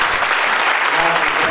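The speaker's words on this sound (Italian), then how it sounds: "Quindi un applauso facciamo all'altro." Audience applause at a 2018 theatre festival awards ceremony in Rotonda, a dense burst of clapping filling the hall with no break.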